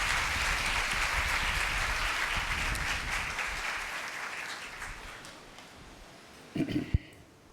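A congregation at a Sunday service in an Assemblies of God church in Karachi claps loudly and steadily, then the applause slowly fades away, ending with a few brief knocks.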